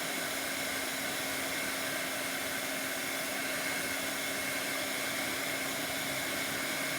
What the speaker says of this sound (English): Not going to put my blower too close because you guys know that I have the mat in there.